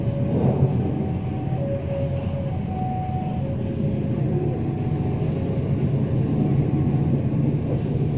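Local commuter train running through Andir station in Bandung, a steady, close rumble of wheels and carriage noise with faint tonal squeals over the continuous roar.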